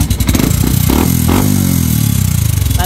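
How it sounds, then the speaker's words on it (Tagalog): A Yamaha Sniper 150 V2 motorcycle engine with a faulty loose rattle, idling and revving close up with a rapid metallic clatter running through the engine note. "Akala mo sira yung motor no? Ayan o, nakita nyo kumakalag."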